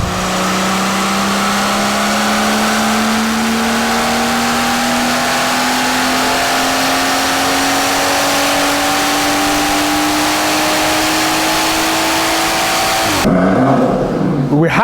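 A BMW M140i fitted with a hybrid turbocharger revs hard and loud, its engine note climbing steadily in pitch for about thirteen seconds before abruptly cutting off into a brief settling rumble.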